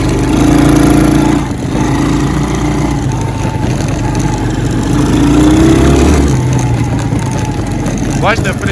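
Engine of a Forte ATV 125-L mini quad bike revving and droning steadily close by, with pitch rising on acceleration; talk is heard over it.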